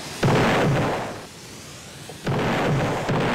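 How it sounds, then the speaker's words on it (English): Gunfire in a Roblox video game battle comes as loud, dense, continuous bursts that fill the clip. The firing dips briefly in the middle and then surges again, with no talk. "Shots fired from red."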